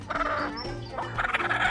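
A brown chicken on a goat and sheep farm in India clucks close by in a few throaty bursts with short gaps, loud and clear with no talk over it.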